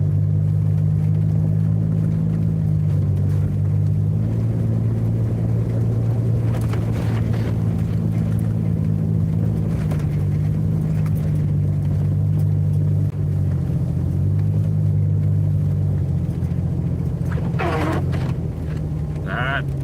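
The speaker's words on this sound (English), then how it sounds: "this is a 2000 Jeep Cherokee I'm driving, and I have studded snow tires on it" A 2000 Jeep Cherokee on studded snow tires rolling along a snowy road, its engine droning loud and steady inside the cabin, with pitch shifting as it changes speed and a few sharp clicks near the end.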